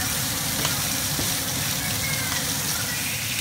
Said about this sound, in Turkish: Şimdi yağı da iyice kızarttık.